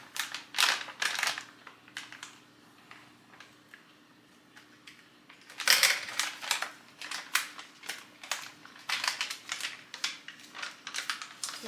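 Sharp, rapid clicking and crunching cuts from a utility cutter used in place of scissors, close up, coming in uneven bursts with a short quiet gap in the middle, over a faint steady hum.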